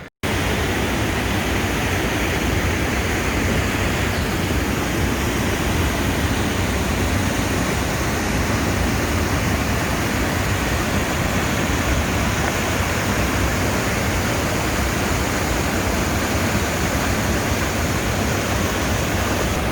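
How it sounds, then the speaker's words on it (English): Steady, loud rushing roar of a waterfall on Wheeler Creek, a constant broadband wash of falling water heard up close with no break for the whole stretch. "See the waterfall?"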